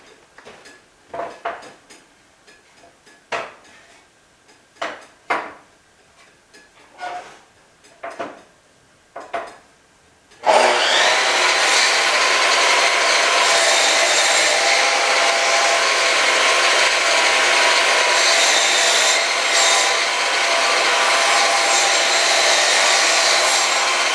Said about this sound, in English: I'm going to go square this in the miter saw.